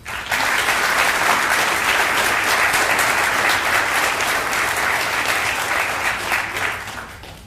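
Sustained applause from an audience honoring Teacher of the Year nominees and finalists, a dense, steady clatter of many hands lasting several seconds before tapering off at the end, with no talk over it.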